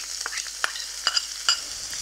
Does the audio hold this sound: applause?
no